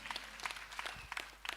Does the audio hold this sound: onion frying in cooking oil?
no